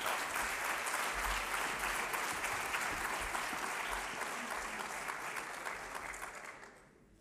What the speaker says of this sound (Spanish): un fuerte aplauso para el director